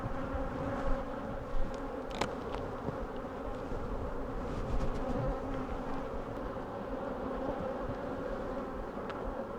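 Honey bees buzz densely around an open hive during an inspection, a steady close swarm drone with occasional louder passes near the ear and faint handling knocks.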